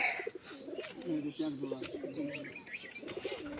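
Several male Punjabi pigeons coo close by in low, rolling, repeated calls, with a few faint chirps in the background.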